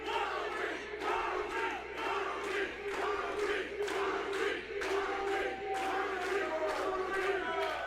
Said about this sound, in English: Crowds sound like they're split right now